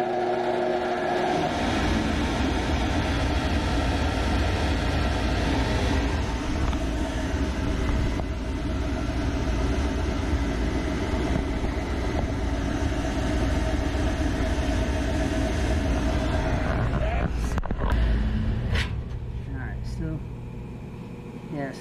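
A Lochinvar gas boiler that is failing to light on low air is switched on, its blower motor sending out a steady, loud drone and whir, followed near the end by a few clicks and knocks.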